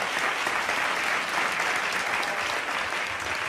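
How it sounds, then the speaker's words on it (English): A studio audience applauds steadily and loudly throughout, a dense even wash of clapping with no break and no speech over it. "You're applauding that"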